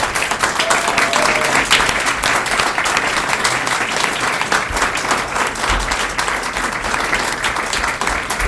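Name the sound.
applause at a board of education meeting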